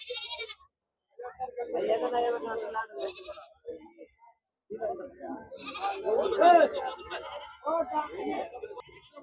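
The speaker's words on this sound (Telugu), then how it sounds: "చిన్నపిల్లలు మేకపిల్లలు మొత్తం పోతి పిల్లలు ఉన్నాయి ఇవన్నీ పోతి పిల్లలు" Goat kids bleating at the Gudur sheep and goat market, their calls mixing with steady nearby talk and the bustle of the trading crowd.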